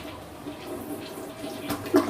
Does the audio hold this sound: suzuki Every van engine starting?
no